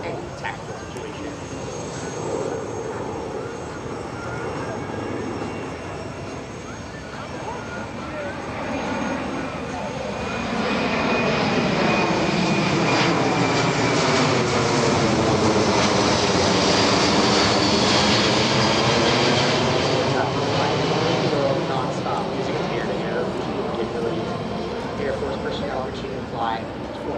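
A Boeing C-17 Globemaster III jet flies a demonstration at the EAA AirVenture 2025 airshow, its roar swelling loudly as it passes and then easing away, with an announcer's voice heard over it.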